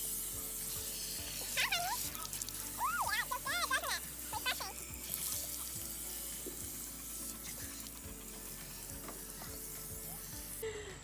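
Running water rinsing shampoo from a German Shepherd's coat during a home grooming, a steady splashing hiss under periodic clicks, with a dog's whines or squeaky voices rising briefly in the middle.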